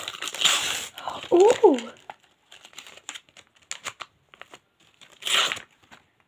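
A McDonald's Happy Meal Pokemon card pack being torn open, with close crinkling and crumpling of the foil wrapper in bursts, a brief excited exclamation from a person, then quieter rustles and a final burst of crinkling.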